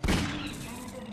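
A single loud shotgun blast in Half-Life 2, a sharp close boom at the start followed by a short ringing decay.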